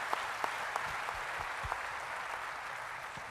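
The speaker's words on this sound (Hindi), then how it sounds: "एक बार जोरदार तालियां उस मैनेजमेंट के लिए होनी चाहिए।" An indoor audience at a corporate sales training event gives the management a round of applause. The clapping is steady and dense, at moderate volume, with a few sharper individual claps standing out and no talk over it.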